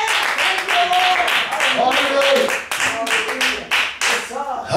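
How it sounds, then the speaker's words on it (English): A church congregation claps hands during a sermon, rhythmic claps ringing out while voices sing and shout over them in a lively worship setting. "Clap your hand and give God glory."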